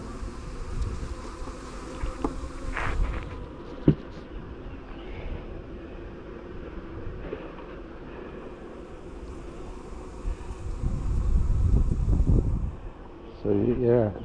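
Honey bees from a nucleus colony buzz steadily while being transferred into a hive outdoors, a continuous hum under clanks, handling noises and a person talking.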